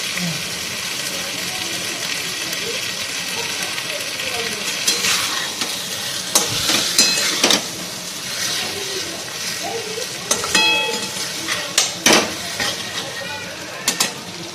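Water is poured into a spice paste frying in oil for a koi fish curry, sending up a hissing sizzle with bursts of bubbling and stirring clatter, close and loud.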